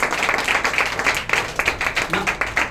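A crowd at a showroom meeting in Warangal claps steadily and fairly loudly, many hands together in a brisk, continuous round of applause.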